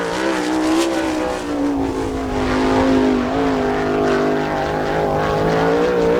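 A sprint race car with an Eagle chassis, car number 3, runs a qualifying lap at Attica, Ohio, during an All Star Circuit of Champions event. Its engine holds a loud, steady, close harmonic drone with slight pitch shifts throughout, and no one speaks.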